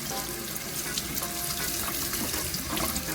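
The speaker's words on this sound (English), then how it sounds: "Wash everything off first before I peel it." Cassava roots rinsed under a running kitchen tap, a steady loud hiss of splashing water with faint rubbing and knocking from handling, close and continuous throughout, with no one talking.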